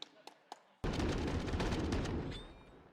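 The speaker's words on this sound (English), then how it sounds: "Such an important frag from Boomich out at Long" Gunfire from the video game Counter-Strike: Global Offensive at a Dust2 esports grand final, with a few faint clicks before a sudden loud burst of shots that holds and slowly fades.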